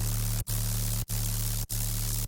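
A synthesized bass patch set to a harsh, sizzling tone, with dense white-noise hiss across the top over a steady low hum, playing three sustained notes separated by brief gaps, loud and up close.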